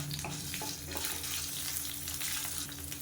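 Coriander seeds, garlic cloves and ginger pieces fry in hot oil with a continuous, close, crackling sizzle that holds at an even level throughout.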